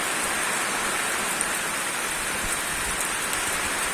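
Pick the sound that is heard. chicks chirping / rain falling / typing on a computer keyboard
rain falling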